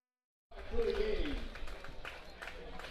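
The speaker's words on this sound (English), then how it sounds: "give Dan and Deb a round of applause, everybody" After a brief silence, a ballpark crowd at a Fremont Moo baseball game breaks into applause and cheering over a public-address voice, the clapping peaking quickly and then settling into a lighter, scattered patter.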